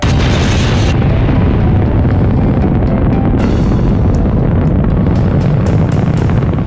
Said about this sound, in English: the nuclear bomb called Little Boy was dropped over the central part of the city.